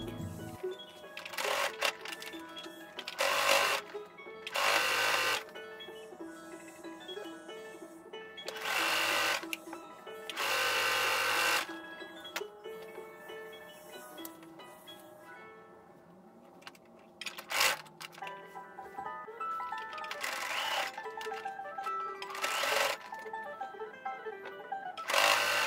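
A sewing machine stitches through skirt fabric in repeated bursts of rapid mechanical whirring, close and loud, with short pauses between runs and no talking.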